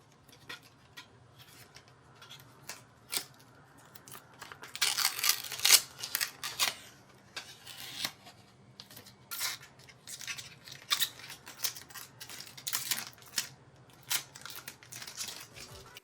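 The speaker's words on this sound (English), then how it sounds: "Now for some crispy peeling." Crisp, crackly peeling of protective plastic film from a white RTX 4070 Super Ventus 2X graphics card, coming in short bursts and ticks with a denser rustling stretch in the middle, close and fairly quiet, with no talking.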